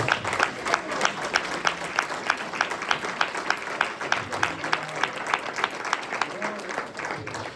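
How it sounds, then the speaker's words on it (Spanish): A church congregation claps in a steady rhythmic beat, around three claps per second, moderately loud with crowd noise beneath, during a Spanish-language service in Hesperia, California. "Dale un aplauso a Cristo."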